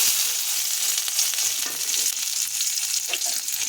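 Onions fry in hot oil after mustard seeds have popped, alongside dried red chilies, a bright continuous sizzle with a few soft stirring scrapes and small crackles, close and steady.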